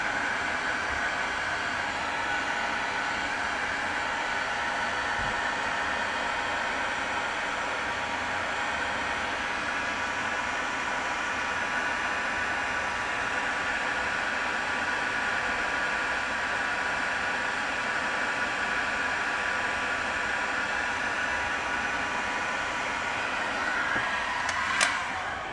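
Heat gun blowing a steady, loud rush of air while loosening the screen of a first-generation Surface Pro, continuous hiss with no voices.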